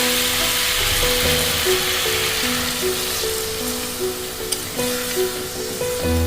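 Water poured into a pan of spiced pointed gourd curry sets off a steady, loud hiss and sizzle that carries throughout, with faint stirring clatter and a sharp click partway.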